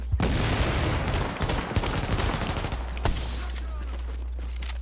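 Rapid video-game gunfire rattles almost continuously, dense bursts of shots with a heavy low rumble underneath, loud and close, with some voice chat mixed in.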